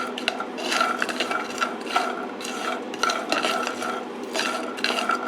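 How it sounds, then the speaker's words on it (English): Rhythmic scraping and rattling of pecans being stirred in a pan on a stovetop, regular strokes about every second with a rough, dry rasp, close and steady, no voices. "We're going to go ahead and roast them on the stovetop until the machine warms up."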